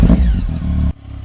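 A super bike motorcycle engine runs loud and close with a deep, throaty idle and a brief rev, then cuts off abruptly, leaving quiet background.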